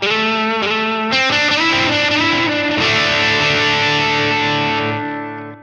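Overdriven electric guitar through a Line 6 Helix with reverb placed before the drive, a few struck chords blooming into a thick, washy sustained tone that rings out loudly before tapering off.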